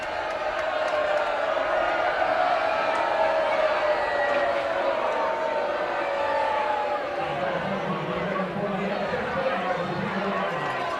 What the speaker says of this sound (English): This is quite the crowd here at American Fork. They got nice support tonight.